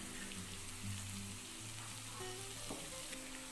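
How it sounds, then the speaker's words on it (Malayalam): Onions, green chillies and cumin sizzle in hot oil as they are stirred for a rustic Kerala biriyani, with a steady close frying crackle, soft scraping strokes and no talking. "നമുക്ക് നന്നായിട്ട് ഇളക്കി കൊടുക്കാം"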